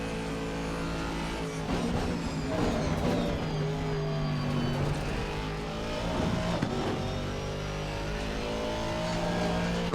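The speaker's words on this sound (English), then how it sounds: "Great sound, the Aston Martin." An Aston Martin V8 GT3 engine in Assetto Corsa Competizione at Imola drones and revs continuously, pitch sweeping up and down through gear changes, loud and close throughout.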